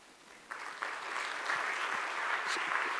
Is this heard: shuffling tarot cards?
no